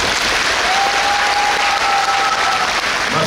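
Loud, dense circus audience applause fills an arena at a Nikulin Moscow Circus show, a steady unbroken roar of many hands with a faint sustained tone running through it.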